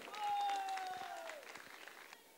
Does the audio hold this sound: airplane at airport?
no